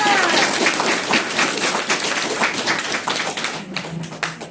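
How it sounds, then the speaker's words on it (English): Audience applause at a cosplay contest, a dense burst of many hands clapping that stays loud, then thins toward the end as a few scattered claps trail off. "let's give a round of applause to General Hunter"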